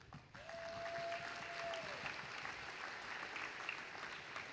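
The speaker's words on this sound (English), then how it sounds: "Give yourselves a round of applause." A crowd applauds steadily in a large room at a robotics competition opening ceremony, sustained clapping with a faint whistle near the start.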